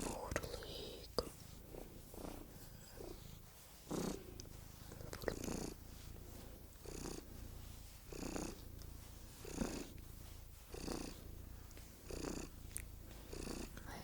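Close, gentle purring from a white domestic cat runs continuously beneath repeated soft whispering, the rumble rising and falling with each breath.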